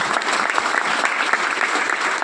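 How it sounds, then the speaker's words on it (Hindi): An audience at an event in India gives loud, sustained applause for three NCC cadets, a dense, even wash of clapping filling the room with no voices over it. "जोरदार ताली बजाइए इनके लिए।"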